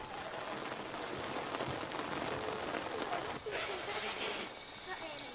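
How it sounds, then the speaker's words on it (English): Rain falls from the sky in a dense, steady patter of drops hitting surfaces nearby. The sound is continuous and close, with a brief dip partway through and no distinct speech. "I don't like getting wet when the rain comes down from the sky."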